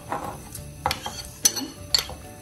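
Soaked flattened rice being stirred into milk in a pot, soft scraping and clinks of a spoon against the metal pot in a few irregular strokes, close and fairly quiet, with no talking.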